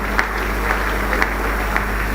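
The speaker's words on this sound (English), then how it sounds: "let us congratulate and give a round of applause to Mr." Scattered applause from an audience at a midday news event honouring Mr. Shu, steady and moderately distant, with a few sharper claps standing out from the even wash.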